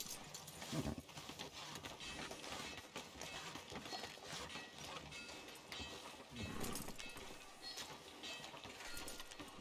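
Horse hooves clip-clop steadily along a street in the Red Dead Redemption 2 video game, a continuous moderately loud rhythmic patter with a dense mix of other game sounds around it.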